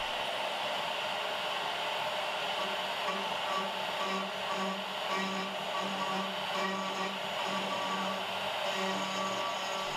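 A CNC machine runs a 3D finishing pass on a hurley, its spindle giving a steady high whine with a faint periodic rise and fall as the cutter moves across the wood.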